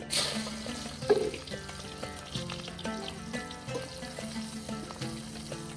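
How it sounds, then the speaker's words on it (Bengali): Chopped onion goes into hot oil in a pan while lentils wait nearby for a fish-head muri ghonto, giving a faint, steady sizzle under background music. "এখন তেলের মধ্যে আমি পেঁয়াজ কুচিটা দিয়ে দিতেছি"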